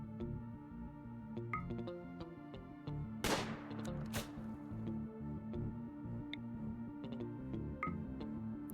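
Gunfire in RimWorld, a colony sim game, with two sharp broadband shots about a second apart amid a busy backdrop of game music and small interface ticks.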